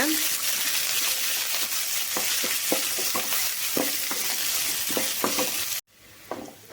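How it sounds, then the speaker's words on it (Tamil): Chopped onions, curry leaves and green chillies sautéing in a pan, a steady loud sizzle with scattered stirring scrapes and clinks, then a brief cut to a quieter stretch. "எடுத்து வச்சிருக்கிற வெங்காயம், கருவேப்பிலை, பச்சை மிளகாய் எல்லாமே போட்டுக்கலாம். வெங்காயம் போட்டுட்டு நல்லா வணக்கிக்கோங்க."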